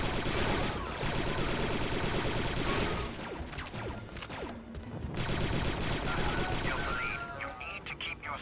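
Blaster gunfire in the Star Wars: Republic Commando video game, a dense, steady stream of shots and combat noise with a short lull midway, while game voices talk over the firing.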